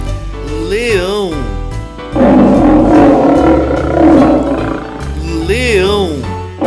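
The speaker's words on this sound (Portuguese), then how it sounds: "leão" A lion roars in a long, rough, loud burst, framed before and after by shorter sliding tonal calls.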